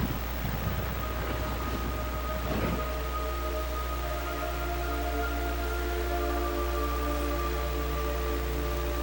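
Steady rain falls in Metal Gear Solid 3, a dense, continuous hiss with a low rumble beneath and a brief louder burst early on, with no voices.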